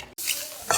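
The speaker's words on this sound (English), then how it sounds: "so now we are frying our onions" Finely cut onions fry in a pan, a bright steady sizzle after a brief cut at the start, with a louder burst of crackling near the end.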